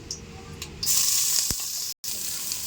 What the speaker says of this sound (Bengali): পেঁয়াজটা এবার লাল লাল করে ভেজে নেব